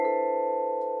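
Sustained vibraphone tones ring on undamped, several pitches blending into a steady shimmering chord that barely decays across the whole second.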